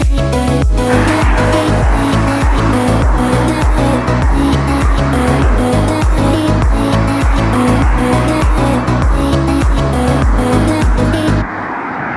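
Car engine roars loud and close for most of the stretch, a steady rumble with rhythmic pulsing that cuts off abruptly near the end.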